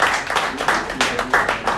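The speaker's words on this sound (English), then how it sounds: "Please a round of applause." At a Rotary club anniversary event, a crowd gives a round of applause for a district governor nominee, with steady, moderately loud clapping from many people and short spoken phrases mixed in.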